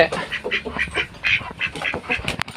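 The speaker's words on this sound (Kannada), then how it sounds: "ತಿರ್ಗಾ ಆಮೇಲೆ ಅಲ್ಲಿ ಕಾಣಿಸ್ತಾ ಇದೆ ಡಕ್ಕು ನಿಮಗೆ" A duck quacks repeatedly in quick, raspy calls, fairly close, with a few sharper squawks near the end.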